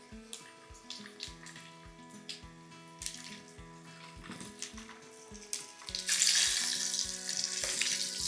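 Eggs frying in oil with dried red chillies, curry leaves and turmeric for a spicy egg pepper fry, a quiet hiss that swells into a louder, steady sizzle toward the end, over soft rhythmic background music.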